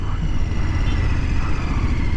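A KTM 1390 Super Adventure S Evo motorcycle in first gear, hill control releasing, pulling away at low revs around 1800–1900 RPM; a steady, close engine rumble with a slight rise, continuous for about two seconds.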